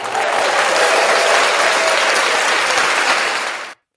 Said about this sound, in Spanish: le estoy dando un aplauso a Diego por tener la contestación correcta.